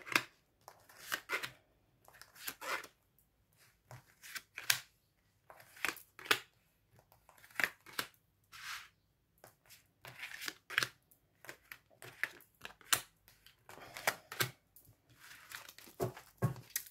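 Tarot cards shuffled and drawn at close range, with bursts of riffling and crisp slapping, sliding card sounds that come in irregular clusters and are broken by short pauses.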